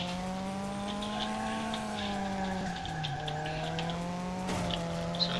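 A car drifting in a racing video game set in a dusty desert, a sustained tire squeal with gliding pitch under a steady engine tone, no talking.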